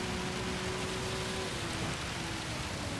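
Steady rain hisses across the track in the racing game Gran Turismo, a constant broadband wash with a faint engine tone running underneath, no talk.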